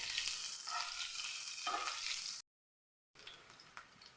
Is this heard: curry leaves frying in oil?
yes